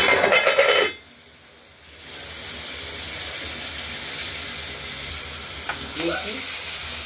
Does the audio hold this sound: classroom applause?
no